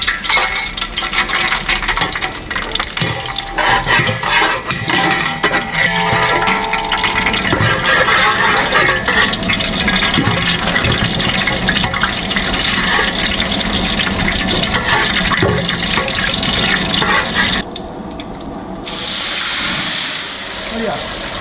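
Water poured into a pot for cooking triple-layer biryani rice makes a loud, continuous rushing splash for about seventeen seconds, then shifts to a softer, fuller filling sound, with occasional clinks.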